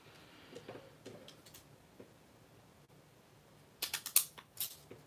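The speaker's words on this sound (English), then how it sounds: "it's not cutting right. Is it the scissors or me?" Scissors cut paper for a craft project in a series of faint, close snips and crisp crunches, sparse at first, then a louder cluster of several quick cuts near the end.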